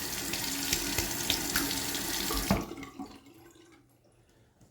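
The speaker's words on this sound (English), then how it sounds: "Cold water rinse." A bathroom tap runs steadily with cold water during a rinse after a shave, a loud continuous splash into the sink that cuts off abruptly partway through, leaving a quiet room with faint drips.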